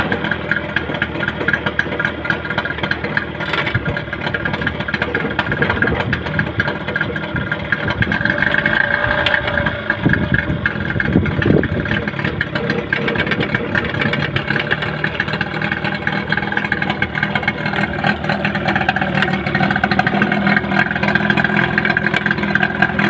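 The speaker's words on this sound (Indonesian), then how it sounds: "Sekarang kita akan start mesinnya." Yamaha 15 hp outboard motor running steadily at idle, a continuous mid-pitched engine drone with a faint ticking fault, close and fairly loud throughout with no talking.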